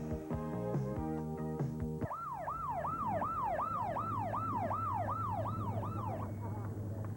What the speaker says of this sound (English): Would you believe this ambulance?